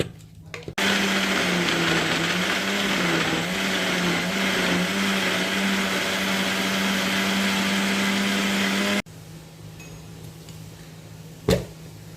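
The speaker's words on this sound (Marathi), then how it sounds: "पाणी न घालता मिक्सरला फिरवा." A kitchen mixer grinder whirs loudly and steadily for about eight seconds as it blends a kilo of grapes without water, then stops abruptly, leaving faint room noise and one brief clunk.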